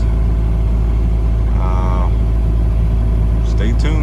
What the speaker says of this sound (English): over there on the skid steer, raking all the grass off, getting that mucked out